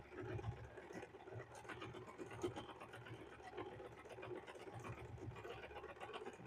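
A sewing machine back stitching a fabric water bottle cover made from a dish drying mat, a faint, steady mechanical whir with soft rhythmic ticking, with no talk.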